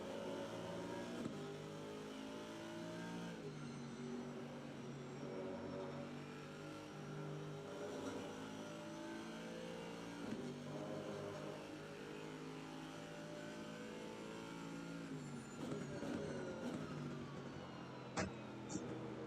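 Race car engines in Assetto Corsa Competizione at Kyalami, including an Aston Martin, drone steadily throughout with layered harmonic whines shifting as cars gain on one another; brief sharper bursts near the end, loud and continuous.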